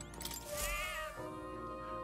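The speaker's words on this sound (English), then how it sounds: "pet the cat." A cat meows after being petted in the video game Metaphor: ReFantazio, a short drawn-out meow rising and falling over soft game music, fairly quiet.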